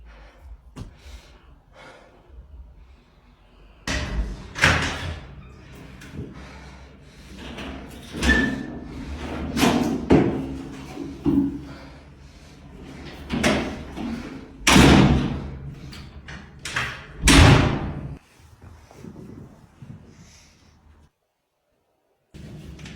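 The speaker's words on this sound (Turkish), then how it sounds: "Açıyorum kapıyı." A door being opened, with several loud thumps, clatters and slams scattered among movement noises and scuffling in a room, some close and heavy, ending in near silence.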